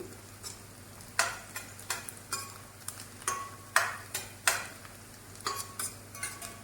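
Potatoes and onions fry in a pan with a soft, steady sizzle, broken by a series of sharp clinks and scrapes as a utensil stirs at irregular intervals; no one speaks.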